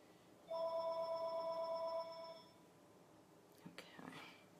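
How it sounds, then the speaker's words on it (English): A home telephone rings in another room, one sustained electronic trill of about two seconds that sounds faint and distant, followed by quiet rustling. "my phone actually at home is ringing"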